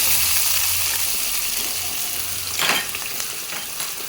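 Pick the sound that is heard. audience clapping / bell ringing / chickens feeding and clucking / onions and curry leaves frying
onions and curry leaves frying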